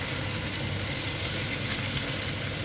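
Wide rice noodles are stir-fried with egg in a wok for a mixed pad see ew, giving a constant, fairly loud sizzle and crackle throughout with no talking.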